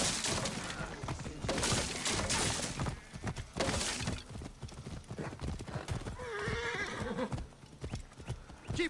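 A racing horse gallops in Assassin's Creed Origins, its hooves clip-clopping in a fast, dense rhythm with loud whinnies and a crash of breaking objects mixed in, close and continuous.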